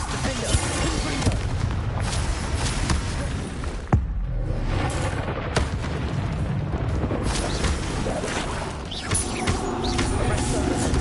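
Confringo fire spell blasts in the Hogwarts Legacy video game, a continuous stream of booming, crackling impacts with sharp bursts throughout, loud and close.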